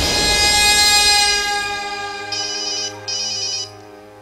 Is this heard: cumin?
no